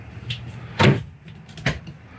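A medicine cabinet door in the bathroom of a 2021 Forest River R-Pod 202 travel trailer being opened, giving two short, close clunks about a second apart, with faint handling noise between them.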